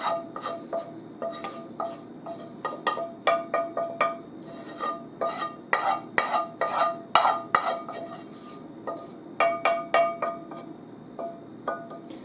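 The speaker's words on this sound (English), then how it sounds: "We'll go ahead and mix this." Utensil stirring panfish scampi sauce with spaghetti in a pan, a steady run of close scraping and clinking strokes in an irregular rhythm, with no talking.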